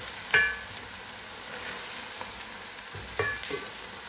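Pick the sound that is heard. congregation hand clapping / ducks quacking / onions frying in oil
onions frying in oil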